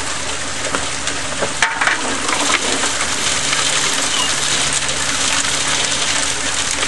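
Gold trommel churning dirt and water into a tailings pan, a steady loud wash of rushing water and rattling gravel that carries on unbroken from start to finish.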